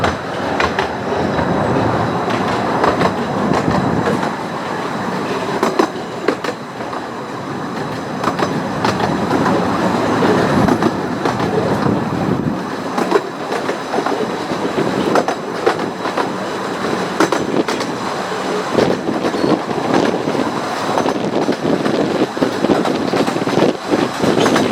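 A train rolls past on the Ravenglass and Eskdale Railway for a long stretch, with rhythmic clickety-clack of wheels over rail joints and occasional squeals, loud and close.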